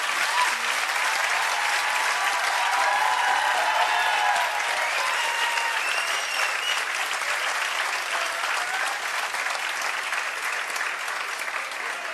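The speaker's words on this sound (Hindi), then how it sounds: "सबसे पहले मेरे माँ बाप के लिए अगर आप एक ताली बजा दो" An audience at a coaching centre's student felicitation ceremony breaks into sustained, loud applause, steady dense clapping filling the whole stretch without pause.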